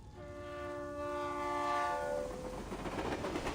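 A train in a video game travelling to Vienna: a sustained horn tone fades out over a steady low rumble, while the rolling clatter of the carriages grows louder toward the end.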